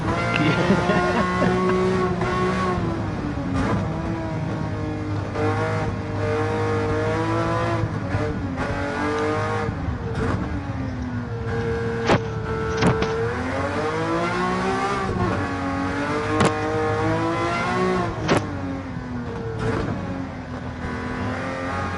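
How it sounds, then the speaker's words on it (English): A 32 Roadster engine in Gran Turismo 7 revs through rising and falling pitch sweeps across repeated gear changes, loud and continuous, with occasional tire squeal and voices talking over it. "Best sounding engine in the game, I think, is the 32 Roadster."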